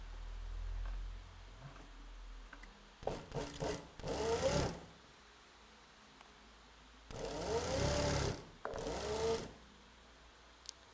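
A sewing machine stitches a uniform collar in two loud whirring runs of a few seconds each, separated by quiet pauses.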